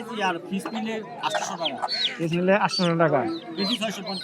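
Native chickens and roosters cluck and squawk continuously, dense and close, at a Wednesday poultry market in Kamrangirchar, with crowd noise mixed in.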